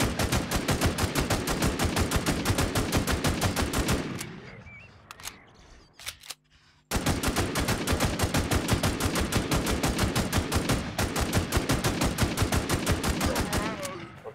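Rapid machine-gun fire from the shooter game Infestation rattles in long, loud, evenly spaced bursts, with a short pause midway before the fire resumes.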